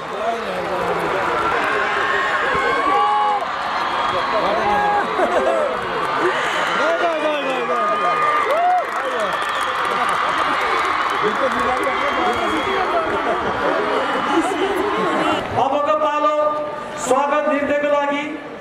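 Crowd applause at the opening ceremony of a school sports meet in Pokhara, a steady dense wash of clapping throughout, with a voice speaking over it on a loudspeaker near the end.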